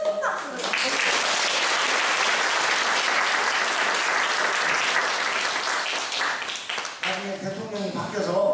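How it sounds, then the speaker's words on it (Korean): A lecture audience gives sustained, dense applause for a Catholic priest after his talk at a Vincentian basic-education session. It fades slightly near the end as a voice begins speaking. "다시 한번 수고하신 우리 황수분께 큰 박수를 받겠습니다."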